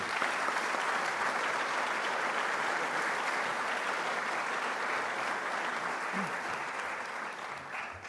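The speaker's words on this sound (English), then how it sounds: "we all need to give them a special round of applause" At a fire and rescue recruit class graduation, the audience gives first responders a sustained round of applause, steady dense clapping at moderate distance that tapers slightly toward the end.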